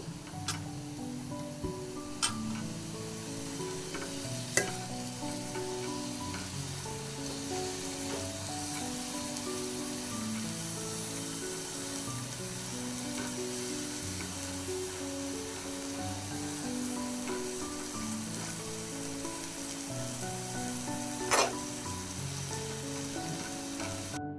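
Sorrel leaves (chukkakura) sizzle and cook in a pan with a steady, soft frying hiss that runs throughout, broken only by a few faint clicks. No voices.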